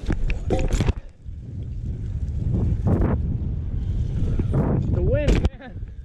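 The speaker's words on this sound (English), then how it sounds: "The wind, man." Gusty wind buffets the microphone at an outdoor BMX park, a loud, continuous rumbling roar that drops out briefly and returns, with short shouted voices over it.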